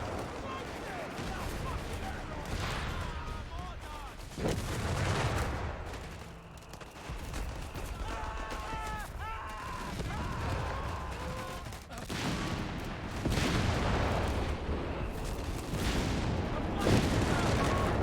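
Mortar fire and other battle gunfire thunder in Company of Heroes 3, with repeated booms and bursts over a dense wartime soundscape while someone talks throughout.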